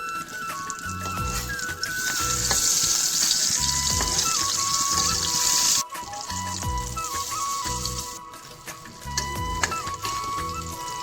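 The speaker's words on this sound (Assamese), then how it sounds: "বেঙেনাখিনি ফ্ৰাই কৰিবৰ কাৰণে তেল দি দিলোঁ" Brinjal slices frying in hot oil over a medium flame, a continuous crackling sizzle that holds steady throughout, with faint tonal hums in the background.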